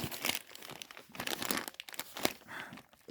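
Packaging crinkles and rustles as a parcel of Peugeot 205 GR parts is unpacked by hand, with close, fairly soft irregular crackles and a few brief tearing sounds over a few seconds.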